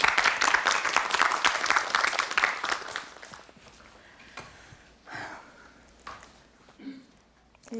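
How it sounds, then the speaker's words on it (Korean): A KBS studio audience claps for a storyteller, dense loud applause for about three seconds that thins into scattered claps, sniffs and small room noises. "박수로 청해 듣겠습니다"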